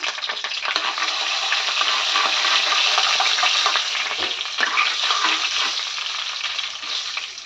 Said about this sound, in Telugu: ఇందులో ఆయిల్ వేసి జీలకర్ర ఆవాలు అవన్నీ వేసి ఇది వేయాలండి ఇదిగోండి కల్వేపాకును ఇంగు వేస్తున్నాను